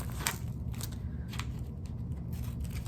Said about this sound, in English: take our scissors and cut a big